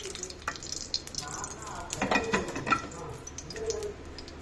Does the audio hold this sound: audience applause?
no